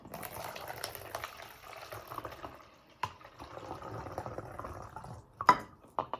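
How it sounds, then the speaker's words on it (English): White vinegar poured from a cup through a funnel into a clear plastic bottle, a steady gurgling trickle of liquid running for several seconds, with a couple of sharp knocks of plastic near the end. "we're going to take a cup of white vinegar and we're going to pour it into our bottle"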